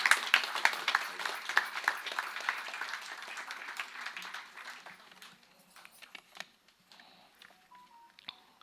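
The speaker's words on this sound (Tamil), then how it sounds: "அவருக்கு ஒரு பெரிய கைத்தட்டல் கொடுங்க கட்டாயம்." An audience at a guest speech event applauds: dense clapping that gradually thins and fades over several seconds into scattered claps and quiet.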